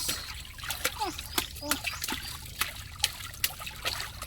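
Water splashes and trickles in short bursts while children's voices chatter nearby, with a few sharper splats standing out.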